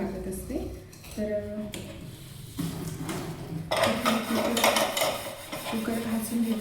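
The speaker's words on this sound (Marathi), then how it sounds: "कुकर घासून घेते" Pressure cooker scrubbed clean before cooking dal at home, with metallic scraping and clatter of cookware, growing busier and louder in the second half, alongside some background voice.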